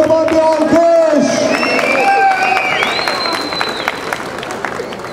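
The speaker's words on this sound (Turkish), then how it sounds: "Kocaman bir alkış!" A crowd at an Izmir film premiere applauds and cheers, whoops and shouts rising loudly over a clapping wash, with voices calling out near the microphone before the noise settles into a lower, steady murmur.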